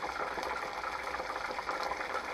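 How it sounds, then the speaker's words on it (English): Shrimp egg rolls sizzle in hot frying oil, a steady close bubbling crackle with constant fine spitting and no voices, heard faintly and evenly throughout. "there's the last batch of 8 that are frying"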